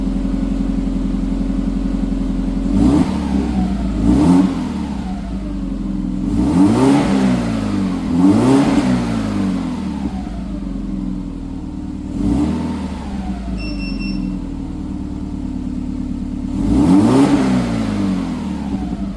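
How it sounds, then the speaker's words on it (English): A Subaru WRX STI with a Ganador titanium exhaust idles with a deep burbling rumble, then is revved in about six sharp blips that rise and fall back to idle, close and loud. "I'm gonna go give it a few revs."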